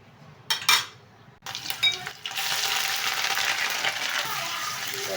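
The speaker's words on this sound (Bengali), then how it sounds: "তো এখন আমি দিয়ে দিব পেঁয়াজ বাটা" Onion paste hits hot oil in a pan for hilsa fish pulao, starting with a few clanks of a spoon and pot, then breaking into a loud, steady, close sizzle that keeps hissing without a break.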